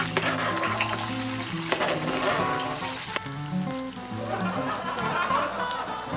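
Olive oil with garlic sizzles and crackles steadily in a pan, a continuous frying hiss with faint background voices beneath it.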